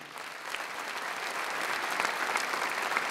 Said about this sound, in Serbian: I da ga pozdravimo jednim velikim aplauzom